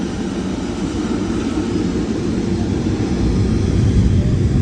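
A large airplane heard up close, a loud steady roar of aircraft engines that swells slightly toward the end, with no talk.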